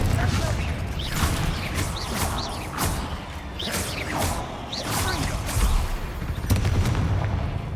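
Confringo fire spells blasting in Hogwarts Legacy, a string of sharp booming explosions that crack and burst one after another over steady game ambience and combat noise.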